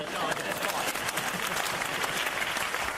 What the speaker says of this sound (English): You're not supposed to clap then.